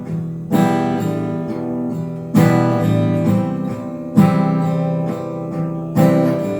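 Acoustic guitar strums a chord pattern, four strong downstrokes roughly every two seconds with lighter strokes between, ringing clearly with no talking.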